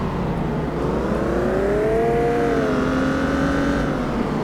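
A modded car in the City Car Driving video game has a custom engine sound: a loud, continuous engine tone that rises in pitch as it revs, dips and then climbs again.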